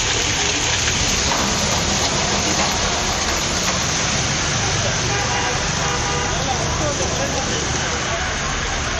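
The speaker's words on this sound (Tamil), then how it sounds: "இரவு நேரத்தில் கனமழை கொட்டி தீர்த்தது" Heavy nighttime rain in Puducherry pours as a dense, loud, steady hiss, with traffic noise and a car horn mixed into the downpour.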